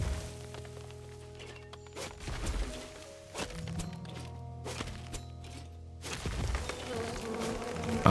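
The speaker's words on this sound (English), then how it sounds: "Ah, stupid bees." Buzzing insect drone from bees in the survival crafting video game Len's Island, a steady hum mixed with game music and a few thunks and whacks of wood chopping, moderately loud throughout.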